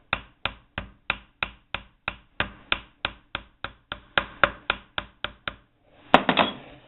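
A small hammer strikes aluminum shank rivets on a little anvil, about twenty sharp, evenly spaced taps close by. A louder clattering knock ends the run.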